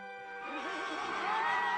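A horse neighs in one loud, wavering whinny that swells and quivers for about two seconds, close and alone with no talk over it.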